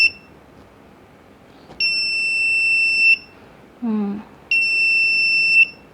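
A shrill electronic buzzer from a proximity sensor circuit sounds in two sustained bursts of about a second each, triggered by a hand, close and steady, with a short spoken word between them.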